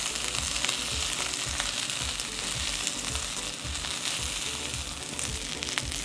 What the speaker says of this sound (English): we just want to stir the veggies around so they don't burn